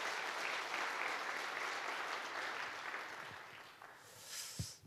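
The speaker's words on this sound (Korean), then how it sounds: "우리 정 회장님 오셨는데 한번 박수로 환영해 주시면 좋겠습니다" A church congregation claps to welcome Chairman Jeong as he arrives. The applause is full, sustained and close, easing slightly toward the end, with a single sharp knock.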